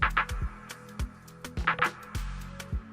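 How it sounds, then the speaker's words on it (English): Clap and snare layered as a roll in an Afrobeats beat: bright crisp hits in a quick syncopated pattern over thumping kick drums and a low bassline, with no voices. "next up we have this kind of clap slash snare sound that acted as a roll also"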